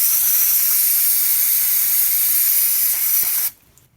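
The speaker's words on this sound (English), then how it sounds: "we are going to use some carb cleaner to clean it on the outside to make sure we don't make the problem worse" Carb cleaner sprays in one continuous, close, loud hiss onto the outside of a motorized bike's carburetor, stopping abruptly near the end.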